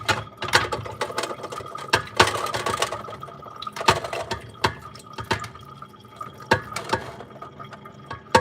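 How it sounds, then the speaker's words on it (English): Soaked black-eyed peas tumble into a cooking pot with an irregular clatter and wet patter of many small pops, close and fairly quiet, with no talking. "Pour the beans right in the pot."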